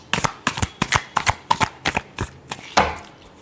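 A deck of tarot cards is shuffled in a quick series of sharp riffling slaps, roughly a dozen close, crisp bursts in an uneven rhythm, with no talk over them.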